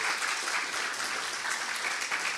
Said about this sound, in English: I want to really clap for this.